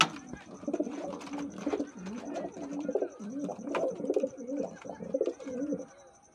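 Kalduma pigeons, a breeding pair, coo steadily in a soft, repeated rhythm at close range, with a faint higher-pitched tone running underneath.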